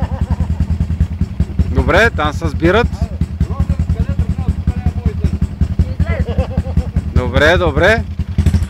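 Motorcycles in a race with a loud engine drone at close range, revving repeatedly as they pass, while a commentator talks over the noise.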